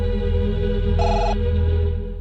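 A telephone rings in an indoor film scene, a sustained electronic ring with a brighter tone swelling in midway, loud and close with no talking.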